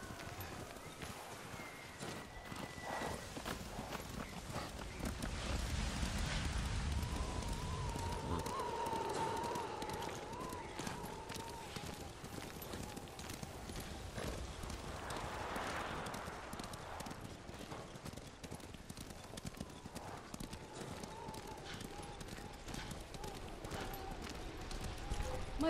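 Horses galloping in the video game Ghost of Tsushima, a steady drumming clip-clop of hooves running throughout under music and ambience, with characters speaking over it.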